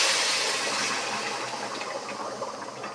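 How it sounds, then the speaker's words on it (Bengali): Boiled water is poured into a simmering curry made with eggs and a little dal, a close steady rush of liquid that gradually thins and softens. "এখন দিয়ে দিচ্ছি তরকারির মধ্যে এই যে জল ঢেলে।"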